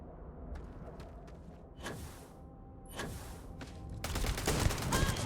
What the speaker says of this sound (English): Shooting at each other over here.